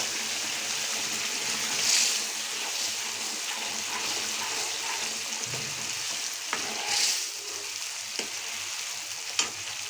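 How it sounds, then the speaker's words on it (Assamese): Boiled taro pieces go into a pan of fish curry, giving a soft, continuous sizzle and bubbling with a few light stirring clatters and clinks, fairly quiet and without talk. "এই কচুখিনি মই বইল কৰি থৈছিলোঁ যে, এইটো চাওক, এইখিনি এতিয়া ঢালি দিলে হ'ল।"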